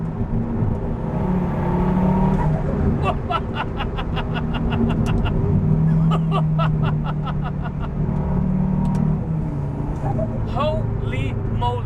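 KTM X-Bow GT-XR engine accelerating, heard from inside the cabin: a loud, steady low rumble runs throughout while a person talks over it.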